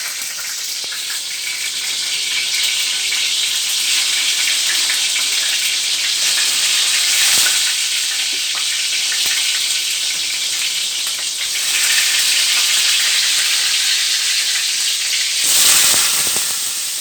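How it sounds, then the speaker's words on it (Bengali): Eggplant pieces frying in a blend of mustard oil and white oil, giving a steady, loud, close sizzle that runs throughout with a couple of brief bursts of stronger crackle. "এবারে বেগুনগুলো ভাজবো।"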